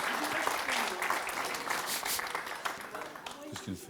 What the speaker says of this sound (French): On applaudit Madame le maire.